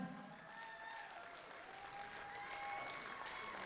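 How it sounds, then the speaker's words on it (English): Audience applause for powerlifting athletes at a national powerlifting meet, a steady, fairly distant wash of clapping from a crowd that holds even and swells slightly toward the end, with faint tonal hum underneath. "Come on, keep clapping for them."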